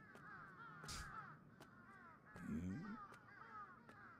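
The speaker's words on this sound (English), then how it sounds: "What's all these crows" Several crows caw in a harsh, scattered chorus, some near and some farther off, over a low ambient bed with no talking.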